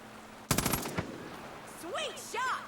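Gunfire in Far Cry 5, a quick burst of several sharp shots in rapid succession followed by a single shot, then quieter whooshing game sounds; no talking over the shots.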